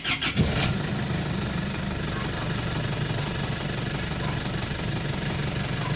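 A 4HJ1 diesel engine in an Isuzu D-Max cranks briefly and catches, then settles into a steady, rumbling idle that continues close by and fairly loud.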